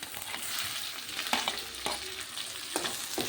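Tomatoes fry in a pan for a village-style Bombay duck gravy, a continuous close sizzle broken by several sharp scrapes of a spoon stirring them.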